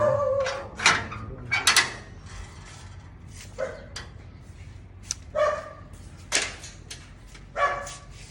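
A dog barks repeatedly in short bursts, some yelping, spaced irregularly over steady background noise; fairly close and clear.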